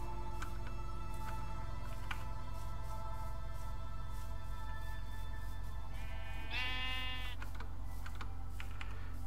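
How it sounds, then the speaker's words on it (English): Sheep in the video game Minecraft give a single wavering bleat midway, over a constant low hum with light keyboard typing clicks scattered throughout. "So many sheep."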